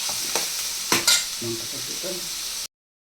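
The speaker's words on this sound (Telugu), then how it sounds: "ఓకే, మంచిగా కలుపుకోవాలి." Omelette curry frying in a pan and being stirred, a steady sizzle with a few sharp scraping clinks of the spoon partway through, then cut off abruptly near the end.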